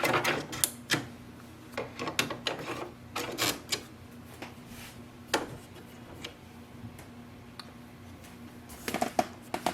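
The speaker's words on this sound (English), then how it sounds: "Now reinstall the ink cartridges. Place all the ink cartridges one by one." Ink cartridges clicking into place one by one in an HP OfficeJet Pro printer, a series of sharp plastic ticks and snaps spaced irregularly over a faint low hum.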